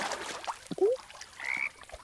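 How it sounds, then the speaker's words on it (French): Frogs croaking inside a Roblox game, a few short rising croaks spread across two seconds, moderately loud with faint game background between them. "Des grenouilles!"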